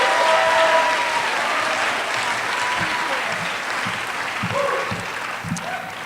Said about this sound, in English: please give a big round of applause for George Shaw, everybody.